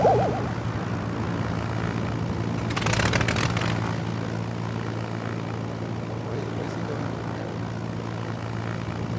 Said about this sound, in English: I think my favorite thing to be when I'm flying around is a biplane.